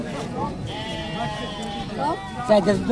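Goats bleat repeatedly at a crowded livestock market in Mirzapur, Tangail, several wavering calls rising over steady nearby conversation among people.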